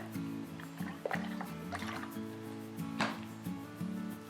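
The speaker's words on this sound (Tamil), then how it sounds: "நான் கடாயில் ஆயில் சேர்க்குறேன்" Cooking oil is poured into a kadai to start a cauliflower pepper masala, making a soft liquid trickle with small gurgling splashes. The sound is quiet and close, over a faint tonal background hum.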